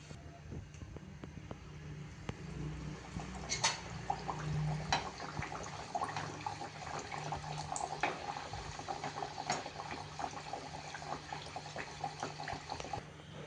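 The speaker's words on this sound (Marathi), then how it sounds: "आता आपण आपले हे पॅटीस तळून घेऊया." Layered wheat-flour patties deep fry in hot oil with a steady bubbling crackle and scattered pops, moderately quiet and close, without speech.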